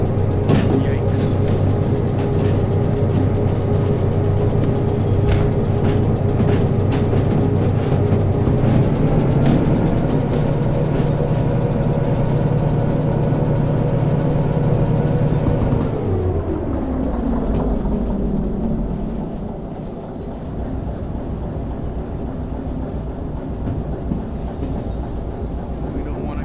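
A freight train rolls along rails in the VR train game Derail Valley, a loud steady rumble with rhythmic clicking over rail joints, its tone sliding lower as it slows, and no talking.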